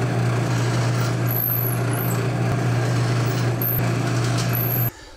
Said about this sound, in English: The tricky part is going to be driving in the screws.